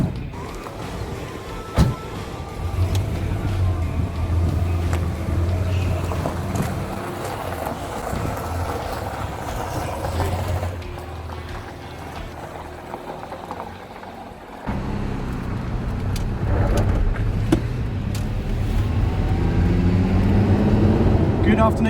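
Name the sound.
Ferrari Testarossa sports car driving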